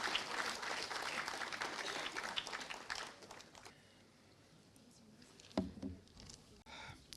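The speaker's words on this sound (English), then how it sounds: "Let's have an applause for Mr. Chandra K. Jha." Festival crowd applauding at a film festival's grand inaugural ceremony, a dense burst of clapping that fades after about three seconds, followed by quiet room tone and a few scattered knocks.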